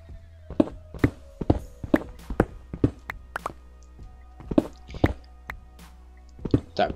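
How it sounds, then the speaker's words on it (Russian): Water being poured and placed in Minecraft while building an iron farm: a run of crisp, close squishing drips and taps in irregular bursts, some quick clusters and short pauses, with no talking. "Разливаем воду."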